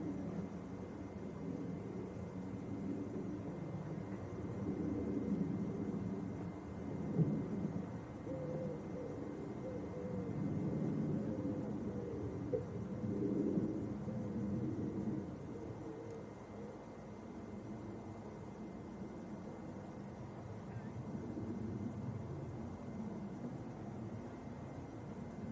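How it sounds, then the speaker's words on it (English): A Ryanair jet departing Leeds passes straight overhead, a low, broad engine roar that swells and fades gradually over a long stretch, with no voices. "Ryanair out of Leeds goes straight over the top."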